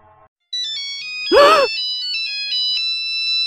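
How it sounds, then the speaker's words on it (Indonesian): An electronic ringtone chimes steadily with bright repeating tones, briefly interrupted by a short burst of a voice or vocal sound partway through. "Nah, berdering."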